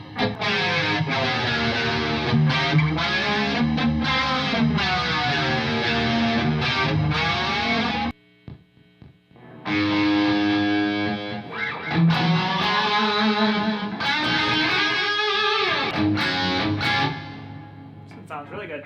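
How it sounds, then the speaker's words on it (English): A guitar through a 1989 Alesis Quadraverb rack unit rings out with a shimmering chorus and lush reverb, sustained chords swirling and lingering, briefly pausing before resuming with bright, wavering tones. "Chorus and reverb."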